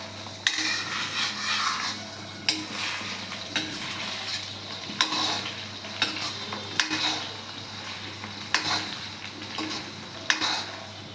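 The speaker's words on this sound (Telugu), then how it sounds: "ఈ ఆమ్లెట్ను మళ్ళీ ఇలా తిప్పి వేసుకోవాలండి, అటు ఇటు కారేటట్టు." An egg omelette sizzles in a hot pan while being cooked for street-style egg noodles, with a soft continuous fry and several sharp scraping and clanking spatula taps as it is flipped, no voices.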